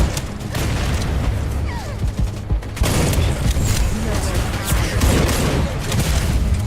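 Continuous, loud crackle of rapid gunfire and thudding impacts in a video game combat scene, dense and unbroken apart from a brief lull, with voices faintly mixed in.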